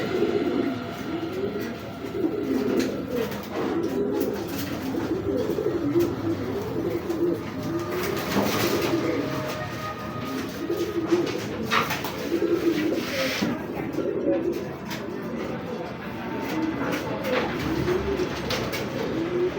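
Racing pigeons, including checker pied and red pied birds, coo steadily and continuously at close range, several voices overlapping in a dense, unbroken murmur.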